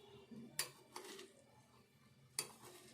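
Snack ingredients are mixed together in a bowl, with quiet scrapes and a few sharp spoon clinks against the dish at irregular moments.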